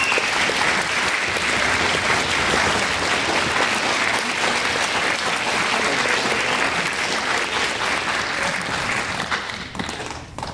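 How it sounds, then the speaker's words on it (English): An audience at a school spring concert of strings, concert and jazz bands applauds the stage manager; loud, continuous clapping fills the hall throughout and fades slightly at the very end. "Round of applause for Frankie Lemon."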